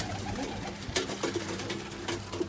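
Pet pigeons coo softly inside their aviary, low rolling calls repeating over a constant background rustle.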